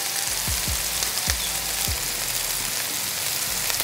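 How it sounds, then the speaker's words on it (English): Smashburger patties sear on a Blackstone griddle with a loud, steady sizzle, spatula taps and clanks punctuating it a few times, close and continuous. "Look how fast we're cooking. The sear is going to be incredible."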